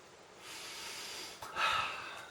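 Someone sniffs a used Canon EOS 1D Mark III camera, one long soft inhale followed by a sharper, louder sniff up close.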